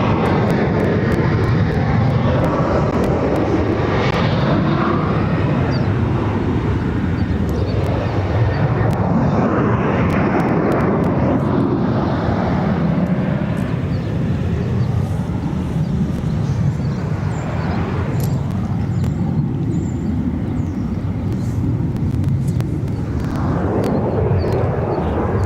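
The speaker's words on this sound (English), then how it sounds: "And that was Ryanair also departing to Palma de Mallorca." A Ryanair jet departing Barcelona airport, its broad engine roar loud and sustained throughout, rising and shifting as the aircraft climbs away.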